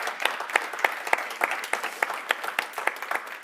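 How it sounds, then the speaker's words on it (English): Audience applause for a panel at a conference, a steady patter of many hands clapping in a hall, moderately distant and even throughout. "a big applause for this great panel."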